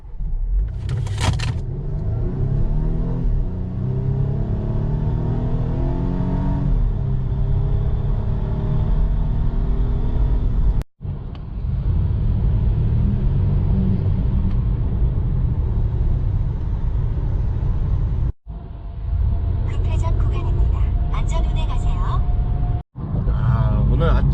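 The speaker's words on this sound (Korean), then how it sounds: "지금부터는 제가 S60의 제로백을 시작해 보도록 하겠습니다" A Volvo S60 Inscription accelerating hard from 0 to 100 km/h on a rural road. A steady, loud engine drone rises in pitch through the gears, broken by brief dips at each shift and heard from inside the cabin.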